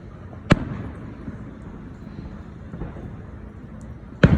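Two sharp firework explosions from a neighborhood show, one early and one near the end, separated by a quiet, faintly rumbling pause.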